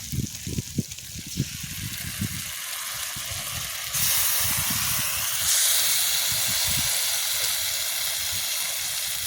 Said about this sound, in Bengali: আদা রসুনের পেস্ট দিয়ে দেবো